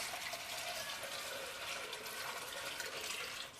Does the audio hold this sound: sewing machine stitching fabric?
no